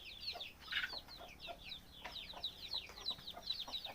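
Chickens cluck and chirp in a rapid, overlapping chorus, a flock of several birds heard fairly close but at a soft level, with no talking over them.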